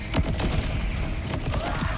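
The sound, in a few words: weapon firing exploding projectiles, Borderlands 4 video game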